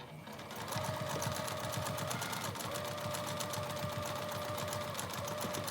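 A sewing machine stitches a bag lining seam, a loud, continuous, rapid rhythmic chatter of the needle running steadily throughout, close up with no pauses.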